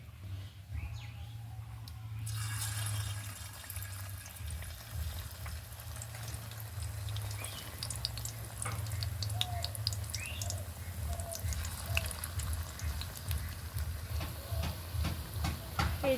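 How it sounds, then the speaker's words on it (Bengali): Drumstick flower fritters frying in hot oil, a steady bubbling sizzle with scattered crackles and pops, a low hum underneath, and a few sharper spatters near the end. "এভাবে একটা একটা করে তৈরি করে সঙ্গে সঙ্গে তেলের মধ্যে ছেড়ে দেব"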